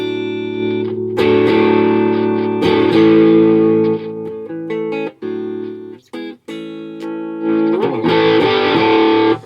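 Electric guitar played through an MCE Battlehammer pedal on its no-clipping setting, sustained chords and single notes ringing out with light grit and brief gaps between phrases, loud and close.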